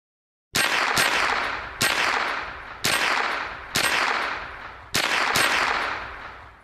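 Gunshots ring out in a VR practical shooting game during a Steel Challenge stage, sharp loud reports in pairs and singles spaced about a second apart, each with a decaying echoing tail, no talking.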